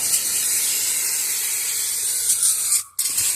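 Aerosol cleaner can spraying onto spilled oil during an oil and filter change on a 2015 Chrysler Town and Country 3.6, a steady close hiss running continuously, briefly cutting out near the end before resuming.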